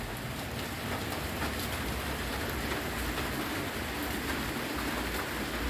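Steady rain pours down in Phalanxay, Laos, a continuous, even hiss that fills the whole stretch without a break, with no voices.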